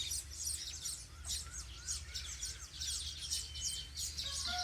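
Weaver birds building a nest on a date tree give dense, busy chirping and twittering, many calls overlapping at moderate distance over a low background rumble.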